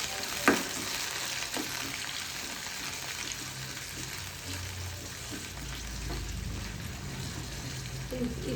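Onion and garlic frying in a pan for egg sambar give a continuous, soft sizzle with occasional stirring clinks, heard close and alone.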